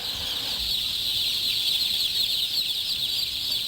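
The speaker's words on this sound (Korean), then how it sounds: "병아리들은 여기서 한 달 동안 각각 키워질 예정이다." A poultry house full of chicks gives a dense, continuous chorus of high chirping and peeping, many birds at once, steady and fairly loud with no talk.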